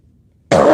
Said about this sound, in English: Hopefully my coughing's not too loud for you guys.